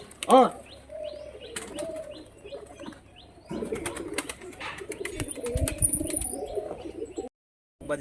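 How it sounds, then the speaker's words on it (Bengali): A tumbler pigeon pair and other pigeons flap and coo, with bursts of wing clatter and soft chirps mixed with louder rustling and background noise, ending in a brief silence. "চারটে পায়রা নিয়েছে, এবার খেলা পায়রাটা সেটা তোমাদের দেখাবো"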